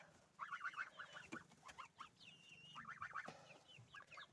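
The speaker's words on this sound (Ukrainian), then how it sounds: "Ось такі в нас гусенята." Young goslings peep in quick, high-pitched bursts, several chirps at a time, close by with short pauses between the clusters.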